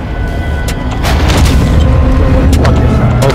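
Gunfire in the video game Call of Duty Warzone: a rapid run of sharp, booming shots crackles loudly over a dense, noisy game background.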